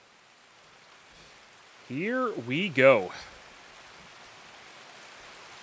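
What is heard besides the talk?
heavy rain in the video game Escape from Tarkov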